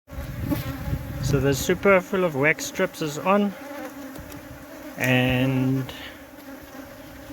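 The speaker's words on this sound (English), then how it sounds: "There's already a lot of bee activity going on this property." Honeybees swarm around a hive box set on an old tree stump during a cut-out, with a super of wax strips in place. Their dense, steady buzzing fills the air while someone talks over it.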